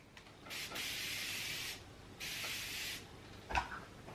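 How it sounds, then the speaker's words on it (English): Two sprays of Laura Mercier Translucent Hydrating Setting Spray, each a close, fine aerosol hiss lasting about a second, followed by a few small clicks. "This is a really nice setting spray."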